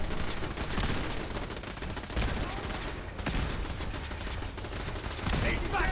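Dense gunfire in the game Fallout 4 crackles in fast bursts, with louder heavy reports at a few points, loud and close throughout and only brief dips in intensity.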